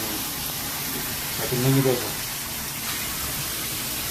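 A stainless steel kitchen sink faucet sprays water in shower mode, a steady close hiss that runs throughout, with a brief spoken phrase over it.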